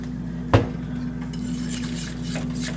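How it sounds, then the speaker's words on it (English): A spoon clinks once against a pot while milk is stirred into a thick ham and potato soup, followed by soft scraping and swirling over a steady low kitchen hum. "I'm going to stir that up until it's all smooth"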